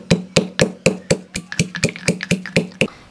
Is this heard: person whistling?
no